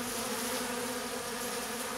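Honeybees hum steadily around a hive in early April as scouts swarm about and foragers return laden with pollen, a dense continuous drone of many wings close by.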